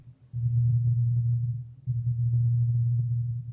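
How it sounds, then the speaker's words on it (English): A persistent low-frequency hum in Bristol drones steadily and continuously, briefly dropping out once before resuming at the same level, with no voices present. "whatever it is this low frequency noise, just can keep you up at night"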